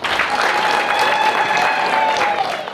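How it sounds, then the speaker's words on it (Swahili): A crowd at an outdoor community gathering in Jibondo bursts into loud, sustained applause, dense clapping filling the space evenly with a few faint voices and whistles mixed in. "Watu wa Jibondo pigeni makofi mengi tafadhali"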